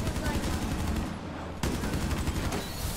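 Gunfire in the game Rainbow Six Siege: dense, continuous rapid shooting that is loud and relentless, dipping briefly in the middle before resuming at full force.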